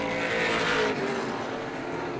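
Pro stock race cars at Star Speedway roar down the back straightaway in a loud, sustained engine drone that swells and then slightly eases as the pack passes.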